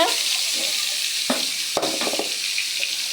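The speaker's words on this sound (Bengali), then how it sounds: "কই মাছটা ভাজা করে নেব" Steady hissing sizzle of koi fish (climbing perch) frying in hot oil, with a few sharp crackles and clicks of a utensil partway through.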